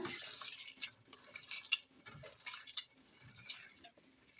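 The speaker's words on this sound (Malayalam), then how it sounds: "ഇനി ഇതിലോട്ട് നമുക്ക് അല്പം വെള്ളം ഒഴിച്ച് കൊടുക്കാം." A little water is poured into a hand-mixed shrimp curry base of onion, ginger, green chilli and curry leaves, giving soft, uneven splashes and drips close by, with no talking.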